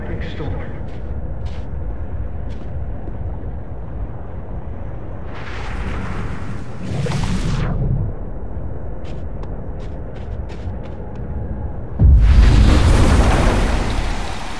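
Thunder from a lightning storm in the game Life is Strange: Double Exposure builds in two rumbling swells mid-way over a steady bed of noise, then a louder, sharper crack of thunder breaks near the end and rolls on.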